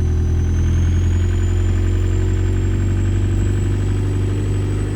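A car with a swapped-in TDI diesel engine rumbles steadily in first gear, a loud, low, even drone with a faint rising whine above it and no voices.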